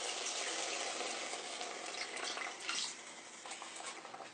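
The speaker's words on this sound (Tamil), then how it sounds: "இப்ப நம்ம தண்ணி சேர்த்துடலாம்." Water is poured into a pot of chicken biryani with soaking basmati rice, a steady, close, rushing splash with no talking.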